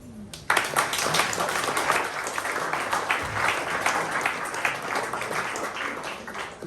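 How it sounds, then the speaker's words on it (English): Pub audience applauding at a community politics talk on sleeping rough in Fremantle: a sudden burst of many hands clapping that holds steady and dense for several seconds, moderately loud in a room. "Please give one more really big round of applause"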